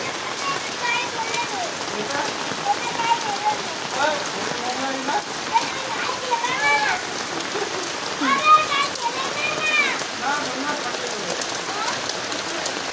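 Steady rain falling outside a house, pattering on surfaces with dense close drops and occasional louder splats, continuous throughout, with bird chirps faintly woven in and no talking.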